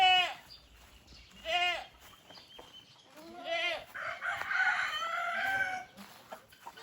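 Chickens crowing and clucking nearby, several calls in a row, with a longer raspy crow near the end and faint background rustling.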